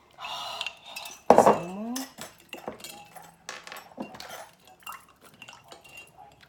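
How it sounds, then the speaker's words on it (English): Ice cubes clink and rattle into a cocktail glass in a bright, close burst, followed by lighter knocks and clinks while a voice speaks briefly. "Put some ice in there."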